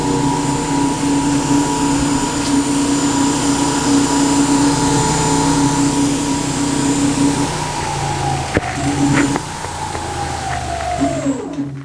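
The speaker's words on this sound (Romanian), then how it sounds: "Motorul ăsta de pe spate tocmai s-a învârtit cu o viteză de 100 de km/h." An Ezotron Z500 Gold electric scooter's rear motor spins at full power in third gear, a loud, steady high electric whine that holds, dips briefly, then winds down near the end.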